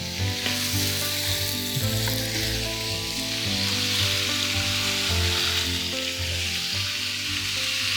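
Cabbage and sausage cooking down together in a single pan, a close, steady sizzle and hiss under a low tonal hum, with no talking.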